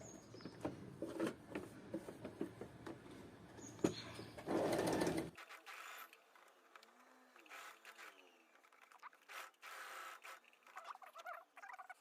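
A sewing machine stitching fabric art with a long stitch length, curving the seam, with short bursts of rapid mechanical stitching, one louder sustained run in the middle, then quiet handling sounds and faint movement.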